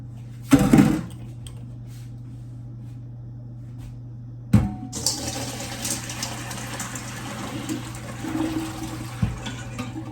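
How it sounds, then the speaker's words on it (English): Soaking water pours off pinto beans into a kitchen sink, a steady rushing splash that starts abruptly after a brief clatter and runs continuously, close and moderately loud, following a quiet stretch. "I'm gonna go ahead and take the water off of the beans"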